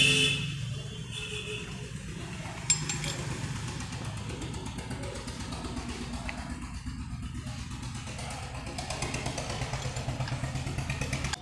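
A Chevrolet Sail car engine with a body vibration problem runs with a steady, close idle hum, with a brief clatter near the start and a faint voice in the background.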